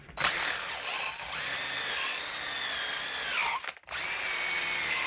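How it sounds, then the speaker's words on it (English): A power drill spins a wire wheel at high speed, cleaning brake parts, whining and scraping steadily, briefly stopping near the end before starting again. "got a wheel here on a drill"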